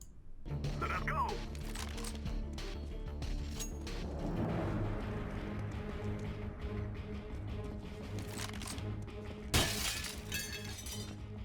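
A glass window shatters in CS:GO, breaking with crisp cracking and tinkling shards, followed by a later sharp burst of breaking glass amid in-game ambience and gunfire-like thumps.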